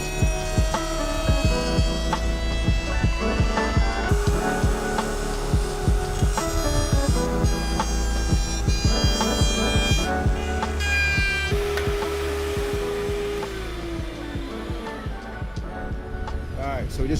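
A machine chamfers the edge of a wooden skateboard deck, giving a loud, steady droning hum with tonal whine that runs throughout and eases slightly near the end.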